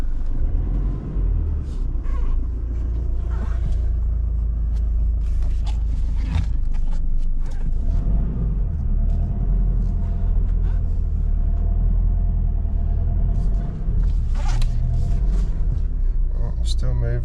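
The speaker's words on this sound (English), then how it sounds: "let's quickly back it out of the workshop, see what happens" A Nissan Pathfinder 4WD shop truck backs slowly out of a workshop, a steady low engine rumble running throughout with occasional creaks and clunks, loud and close.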